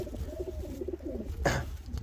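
White pigeon cooing softly close by, a brief quiet run of low, throaty coos over faint background noise.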